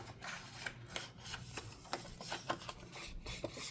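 Soft rubbing and light scratching as walnut stain is dabbed onto paper edges, a series of faint, brief strokes at an irregular pace, close by and quiet.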